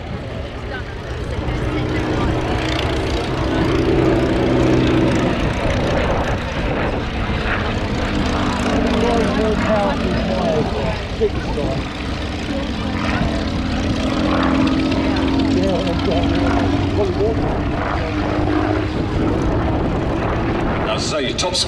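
A biplane with a 525 horsepower Rolls-Royce Kestrel engine flies at an air display, its steady loud propeller drone rising and falling as it passes, with continuous commentary over a public address system.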